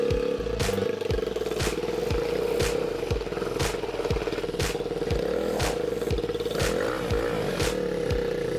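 A small dinghy outboard engine chugs steadily with a regular rhythmic knocking, running continuously and close by with a constant droning hum.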